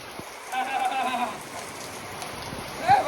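Heavy rain pours onto a cotton field with a steady, soft hiss and patter, while someone speaks over it at moderate distance.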